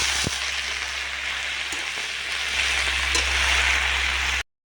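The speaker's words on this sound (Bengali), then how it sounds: "আর এদিকে না আমি শুকনো লঙ্কা আর কালো জিরে ফোড়ন দিয়ে শাকটা বসিয়ে দিয়েছি লাল শাকটা" Red amaranth greens sizzle in hot oil with dried chilli and nigella seeds over an outdoor clay stove, a steady close hiss and crackle that swells slightly toward the end before cutting off abruptly.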